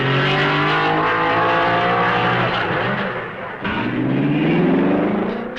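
Lancia and other racing cars at the 1955 Belgian Grand Prix at Spa scream past with loud, rising and falling engine notes that sweep up through the gears. A brief dip and a fresh surge of revs follow as another car goes by.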